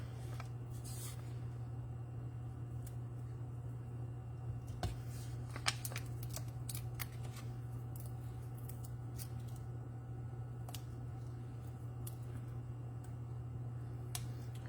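Scissors snip through masking strips in a quiet room, a scattering of small, sharp cuts at irregular intervals over a steady low hum.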